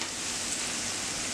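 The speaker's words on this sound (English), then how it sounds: "this guy here is getting nice and hot, and you can see the sizzle starting" A hot pan sizzles as it heats for reheating shrimp fettuccine, giving a dense, continuous hiss and crackle up close with no talking.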